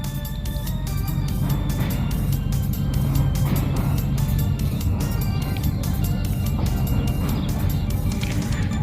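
A car engine revving hard and continuously at close range, a loud rough roar with rattling that stays dense the whole time, with no talk over it.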